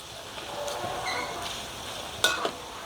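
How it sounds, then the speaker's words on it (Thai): Sun-dried pork frying in hot oil, a steady close sizzle and crackle with occasional spatters, a couple of sharp louder pops near the end. "มาทอดหมูแดดเดียวให้กับ FC เราได้ดูค่ะ"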